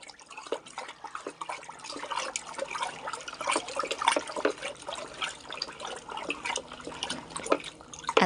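Homemade fabric softener being stirred by hand: faint, close liquid sloshing and trickling with small irregular splashes and drips throughout, heard alone without speech.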